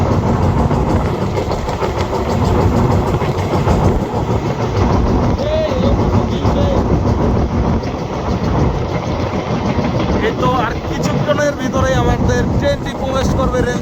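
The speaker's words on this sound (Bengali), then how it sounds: "আমাদের ট্রেন ঝড়ের গতিতে ছুটে চলেছে নতুন রেল সেতুর লাইনের উপর দিয়ে" Nilsagar Express running at speed toward the Jamuna rail bridge, a continuous rolling rumble of wheels and carriages from inside the train, with a voice talking intermittently over the noise.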